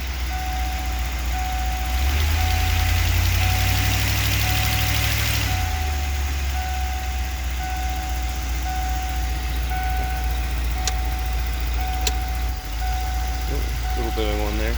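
A 1994 Ford E350 Club Wagon with a 351 V8 idles close by, then bogs and stumbles under light throttle with an uneven, misfiring note before settling back to a rough idle.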